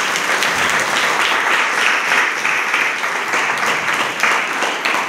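An audience at a live Christian prayer service claps loudly and continuously, a thick, even wash of applause that holds steady from start to finish.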